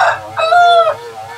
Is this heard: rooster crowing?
yes